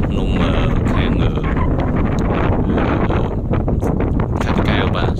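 Strong wind blows in off the river at the Chrey Thom ferry port, buffeting the microphone in a loud, continuous rumble with gusty surges throughout.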